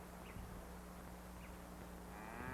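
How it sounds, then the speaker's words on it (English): A cow, mother of a week-old calf, lows faintly and at a distance over steady outdoor background noise, with a few soft calls spread across the clip. "That other cow was that little calf's mother."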